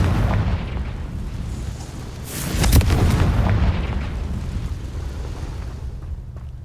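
A Confringo spell explosion in Hogwarts Legacy sounds as a deep rumbling blast that swells out of a dense, noisy game soundscape, peaking briefly before settling back into a continuous low roar.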